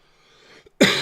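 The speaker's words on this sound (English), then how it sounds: "Sorry I coughed in your ear, guys" A single sharp cough close to the microphone, sudden and loud after a quiet stretch of faint background.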